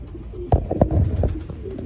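Racing pigeons in a Batangas loft coo in low throaty bursts, a couple of sharper flutters or notes mixed in, close by over steady background rumble.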